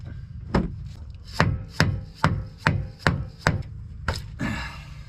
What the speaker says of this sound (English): now we'll take these inserts, which are labeled left and right, pound them in with a mallet